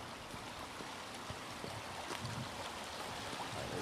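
A waterfall runs steadily in the distance, a faint even rushing wash with scattered small splashes and no voices.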